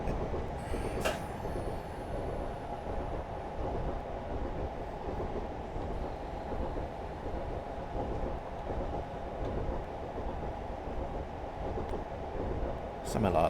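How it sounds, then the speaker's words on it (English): Train in the Settle and Carlisle route of a rail simulator game rumbling and jolting steadily along the track, a continuous loud rolling roar with brief louder knocks near the start and end, a voice talking over it. "I don't like the way this train is jolting around either."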